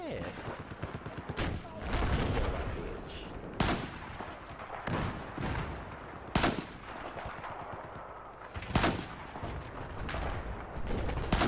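Rapid automatic gunfire from the video game Battlefield 4, loud bursts and sharp single shots recurring across the clip, mixed with game sounds and someone shouting over them.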